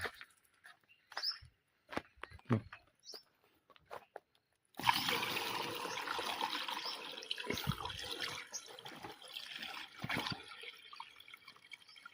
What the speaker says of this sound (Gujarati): આખો પોપ ભરી દેવાનો છે પાણીનો.